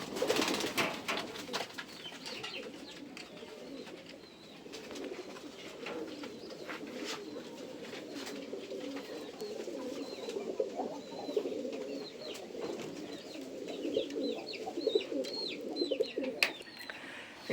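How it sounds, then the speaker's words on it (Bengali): Pigeons coo steadily in the breeding room of a pigeon loft, soft overlapping calls repeating from several birds, with occasional wing flutters and shuffling. "তো কিছু কবুতর আছে এখানে।"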